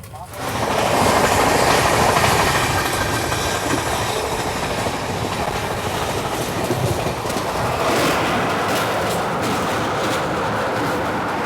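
Sachkhand SF Express (12716, Amritsar to Nanded) running at high speed, heard from on board as a loud, steady roar of wheels and rails with a continuous clatter that holds for the whole stretch.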